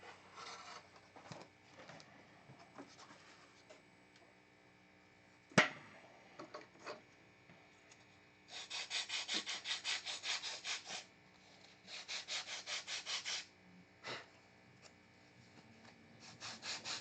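Hand sanding of a wooden part with sandpaper: several runs of steady rasping back-and-forth strokes, close and fairly loud, separated by quieter handling noises and a sharp knock.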